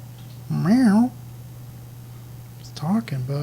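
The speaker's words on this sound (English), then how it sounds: "My kitty cat, Mr. Measley." A pet cat named Mr. Measley meows twice close by, first a long wavering meow and then a shorter one a couple of seconds later, over a steady low hum.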